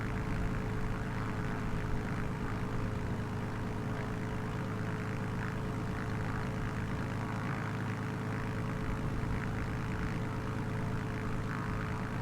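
A Beechcraft Bonanza G36 propeller plane, flown with an improvement mod in a flight simulator, drones steadily as it taxis, its engine and prop giving a loud, even, unbroken hum for the whole stretch with no talking.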